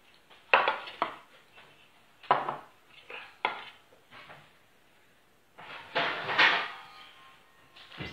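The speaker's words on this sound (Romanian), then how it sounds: "Ia uitați, negresa noastră de post, o să o și tăiem." A knife cuts a Romanian fasting brownie (negresa de post) on a tray, giving several separate bursts of metallic clinks and scrapes. Short pauses fall between the bursts, and the sounds are close and fairly crisp.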